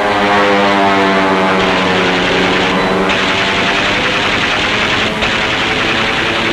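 Loud, droning propeller engines of aircraft making a strafing attack on a U-boat roar steadily, a dense harmonic hum that fills the whole stretch without letting up.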